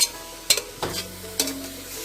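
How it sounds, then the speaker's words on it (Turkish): Pieces of meat searing in a hot pot for Turkish kavurma: short bursts of sizzling and a few clanks of stirring, close by, with no talking. "Bakın hemen mühürlenmeye başladı bile"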